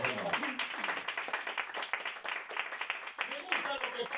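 A church congregation gives sustained, fairly faint applause with steady clapping, and voices murmur underneath.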